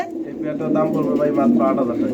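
Spanish pigeons with tiger-colored plumage coo in low, throaty rolls close by, mixed with a person talking over them.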